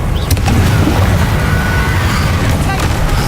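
A Confringo spell explosion in the video game Hogwarts Legacy: a loud, close burst with a sharp crack near the start, then a sustained rumbling roar for a few seconds, with faint game music beneath.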